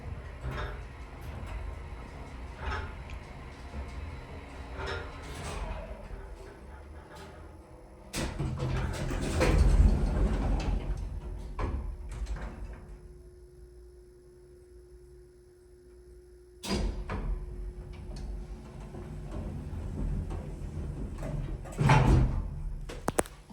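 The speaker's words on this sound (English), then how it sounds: "I gotta get a listen to the sound of the relays. Those are epic. As well as the door movement." Relay clicks and door movement of a vintage Otis traction elevator at 110 North in Hickory, NC, with repeated sharp clicks and knocks over a steady hum, a louder rumbling door passage in the middle and more thuds near the end.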